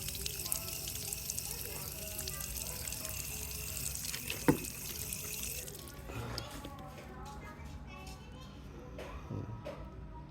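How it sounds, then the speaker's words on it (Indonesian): Water splashes and trickles while chili and tomato seedlings are watered, a steady close wash of sound that eases off midway, with faint voices and children in the background. "ini udah siram aja biar rapi aja."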